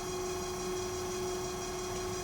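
A steady, droning machinery hum with a constant low tone fills the space, unchanging and continuous, from the engine room of an electric fishing vessel in Sitka, Alaska.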